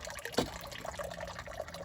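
Water runs and splashes continuously during a 50% water change on a koi pond, a close, steady liquid wash with a brief louder gush near the start.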